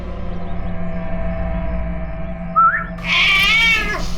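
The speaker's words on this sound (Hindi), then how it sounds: "ये है वो बिल्ली जो खूनी को पहचानती है।" A cat gives a short meow partway through, followed by a longer, louder wavering meow near the end, over a steady low background drone; no one speaks.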